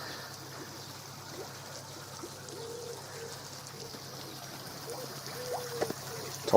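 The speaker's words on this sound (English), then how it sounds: "Topping up with a little bit of water." Water trickles steadily into a koi pond during topping up, a faint continuous stream under outdoor ambience with pigeons cooing nearby.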